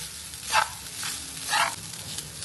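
Basmati rice for broccoli rice is mixed in a pan over a low sizzle, with two distinct scraping sweeps of a spoon through the grains, each lasting a fraction of a second; nobody talks.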